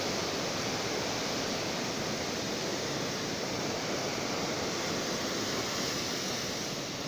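Rain-swollen surf at Juhu Beach, Mumbai, rolls in as a constant broad wash of sea noise, loud and unbroken with no voices over it.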